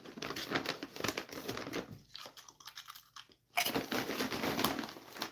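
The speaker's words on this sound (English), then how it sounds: "that's a good crunch" Loud, close crunching of plain ripple potato chips, a steady run of crisp crackly bites and chewing that drops away briefly midway, then returns just as dense and sharp.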